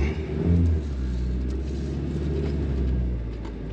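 A vintage 4WD Toyota Sunrader with a supercharged 3RZ engine accelerates under load, giving a steady, loud, low rumbling drone heard from inside the vehicle with no talk.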